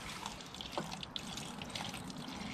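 Water-contaminated gasoline pours out of the gas tank of a flood-damaged Lawn-Boy rear-wheel-drive mower, a quiet continuous liquid trickle and splash heard close with no talking.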